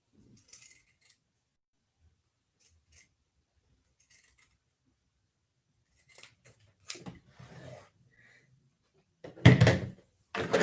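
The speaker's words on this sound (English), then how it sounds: "now that I've done the pinking shears all the way around the edge" Pinking shears snip along the edge of a piece of fabric in short, scattered bursts, quiet at first and growing louder near the end, close and alone with no talk.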